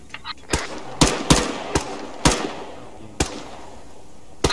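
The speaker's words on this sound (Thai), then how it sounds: "เป้าหมายตรงหน้าระยะ25เมตร1นัดเริ่มยิง" Rifles fire on a 25 m target range in ARMA 3, a series of about eight sharp, loud shots spaced irregularly over a few seconds, with faint short reports trailing each one.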